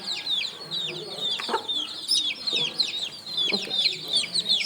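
Young chicks being vaccinated, with continuous close high-pitched cheeping and chirping from several birds and a few dull handling thumps.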